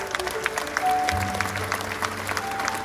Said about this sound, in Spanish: Démosles un aplauso a ellos.